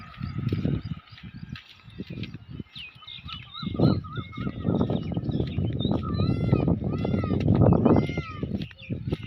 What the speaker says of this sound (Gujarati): મોર બોલે આજુબાજુ.